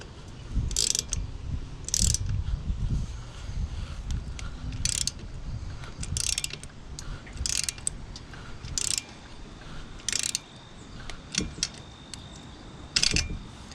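Ratchet clicking in quick bursts while tightening a bolt on a motorized bicycle, close and crisp, with metallic clanks and pauses between strokes.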